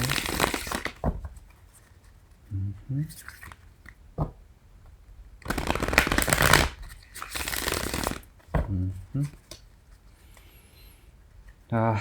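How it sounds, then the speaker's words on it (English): Tarot cards are shuffled in several bursts of crisp riffling and flicking, close by, separated by quieter pauses with a few soft handling sounds. "let's go ahead and do a bit of a pre-shuffle and a read"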